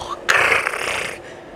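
A voice imitates snoring breath while describing the sound of a COVID-19 patient's breathing: one rough, rasping exhalation of about a second, close and fairly loud.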